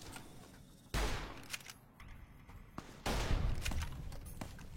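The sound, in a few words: gunfire from player's gun in a video game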